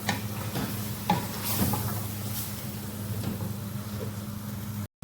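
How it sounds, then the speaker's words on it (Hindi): Chopped tomatoes and green chilies hit a chicken karahi, giving a steady close sizzle with a low hum beneath and a few light stirring clicks, with no talking. "अब इसमें हमने ये जो टमाटर और हरी मिर्चें काटी थी ये डाल देंगे"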